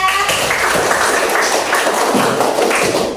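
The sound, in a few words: classroom applause for group 3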